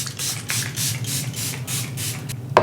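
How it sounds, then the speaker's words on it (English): Rapid pumped mist of Charlotte Tilbury Airbrush Flawless Setting Spray, about seven short hissing bursts in steady rhythm, close and clear. "I'm going to do my first round of setting spray."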